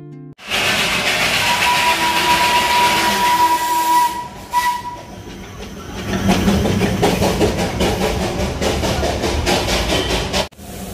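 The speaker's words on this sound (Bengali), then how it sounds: "এখানে দেখতে পাচ্ছেন টয় ট্রেন চলছে, টয় ট্রেনের ইঞ্জিন চলছে।" The Darjeeling toy train engine at Ghum railway station gives a long, loud whistle, followed by hissing and rumbling engine noise as it runs nearby.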